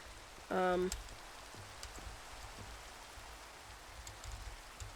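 Steady rain falls in the Minecraft video game, a soft continuous hiss of drops on a house with a leaky roof, with a brief tonal game sound near the start and no talk.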